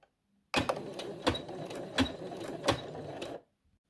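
Sewing machine stitching doll clothes runs in a steady mechanical whir for about three seconds, with regular louder clacks of the needle mechanism roughly every 0.7 seconds, close and clear with no talking.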